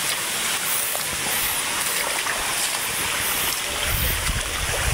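Floodwater pours steadily across a footpath in Isabela during a typhoon after a night of rain, a continuous close rushing wash with no voices.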